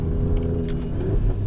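An Alfa Romeo Giulia Quadrifoglio's engine on a race track gives a steady, deep rumble that runs through the whole moment, loud and close with no voices.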